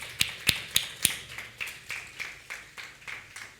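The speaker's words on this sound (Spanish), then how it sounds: "Otra vez un aplauso bien fuerte al Señor." Congregation in a church clapping in unison, a steady rhythm of sharp claps that starts crisp and loud then softens and spreads slightly over a few seconds, with no talking over it.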